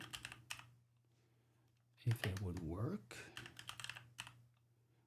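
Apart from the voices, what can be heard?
typing on a clicky computer keyboard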